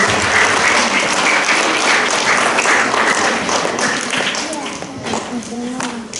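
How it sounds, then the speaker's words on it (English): A crowd applauds with dense, steady clapping that fades slightly toward the end, with a few voices mixed in. "Can we get one more nice big round of applause for everybody who said something?"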